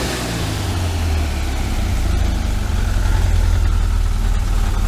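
A 1973 VW Super Beetle air-cooled engine fitted with Dellorto FRD 34B carburetors runs at a steady idle, a deep, throbbing rumble heard up close with a slight rise in intensity partway through.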